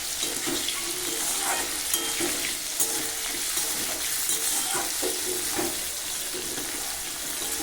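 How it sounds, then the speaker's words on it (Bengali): Fried potatoes and chopped tomatoes sizzle in a pan while being stirred, a steady hiss broken by repeated scraping and clattering strokes, close and fairly soft, with no talking. "আলু ভাজা হয়ে গেছে লালচে করে, এখন টমেটো কুচিগুলো দিয়ে দেবো। দেখো আবারও একটু ভালো করে নেড়ে চেড়ে নেবো।"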